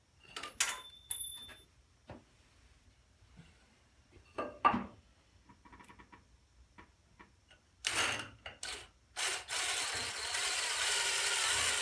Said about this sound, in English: now I'm just getting the screw started in the wood